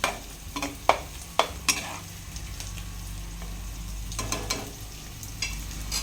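A spoon stirs mushroom gravy with pepper in a pan, scraping and knocking against the metal in irregular strokes over a steady low sizzle.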